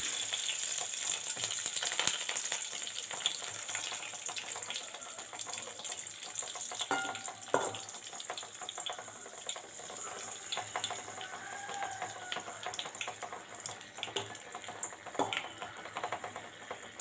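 Curry leaves crackling in hot oil as they fry crisp, a continuous close sizzle with scattered sharp pops and spatters running steadily throughout.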